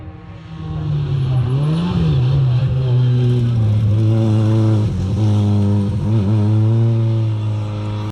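A Ford RS200 Group B rally car's rear mid-mounted 4-cylinder engine revs loudly up close, its pitch climbing and dipping in several bursts before settling into a sustained high drone.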